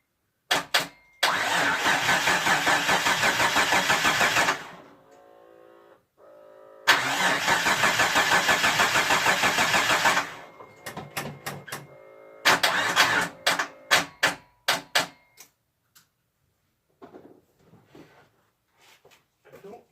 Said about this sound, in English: I just want to start me car.